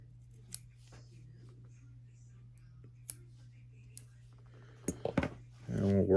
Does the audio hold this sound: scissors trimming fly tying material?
yes